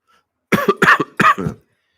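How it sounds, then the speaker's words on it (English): Three sharp coughs in quick succession, close and loud, followed by silence. "Excuse me for coughing."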